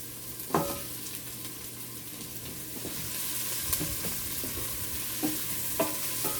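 Pepper seed tossed into a frying pan for collard greens with smoked turkey, sizzling steadily while a utensil stirs and scrapes in a few distinct clanks, close and moderately quiet with no talking.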